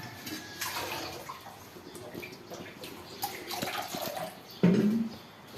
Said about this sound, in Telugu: మా అమ్మాయి బాసనలు కడుగుతుంది చూడండి